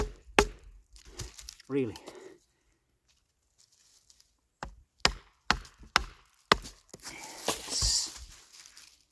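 Böker Pilot survival knife blade chopping into a thick piece of wood outdoors, a series of sharp, close chops and cracks in an irregular rhythm, with a short spoken word between strikes.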